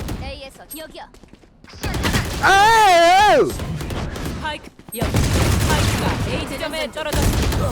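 Bursts of rapid video game gunfire crackle loudly in sustained volleys, broken by a brief pause, with excited voices and a sung or shouted tone layered over the shooting.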